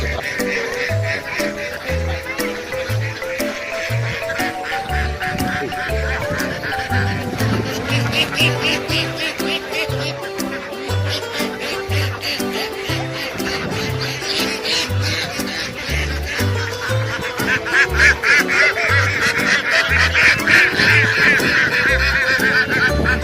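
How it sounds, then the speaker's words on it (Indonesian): Farm ducks quack over and over in a steady, loud, busy chorus with honking fowl mixed in, close by and continuing throughout. "Bebek."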